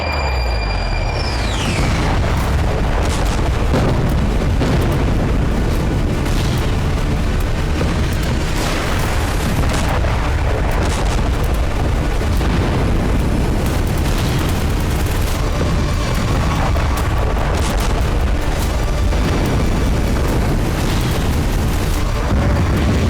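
Airstrikes in the Israel–Hezbollah war set off loud explosions with rising fireballs, a dense continuous roar of heavy booms and rumbling that stays near and loud throughout.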